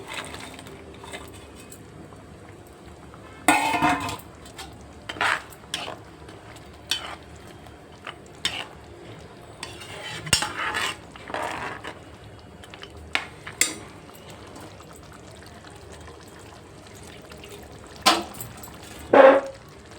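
Fried cashews and paneer tip into a pan and get stirred, giving scattered clinks and scrapes of a spoon against metal over a low background sizzle, with sharper knocks now and then.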